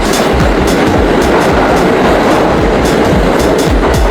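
A New York City subway train in Manhattan rumbles loudly and steadily, with a rapid clickety-clack of wheels over rail joints throughout and no voices.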